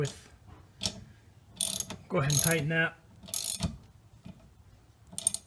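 A ratchet tightens the nut on a windshield wiper arm, giving several close, crisp clicking bursts of varying length with short quiet gaps between them.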